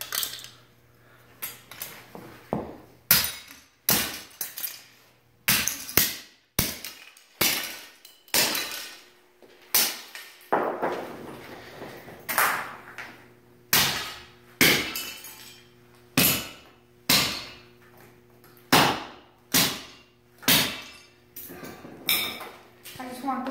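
A sledgehammer smashing the headlights and lights of a toy or model car: a long series of loud, sharp impacts with glassy crunches and clinks about once a second, some voices talking at times between the blows.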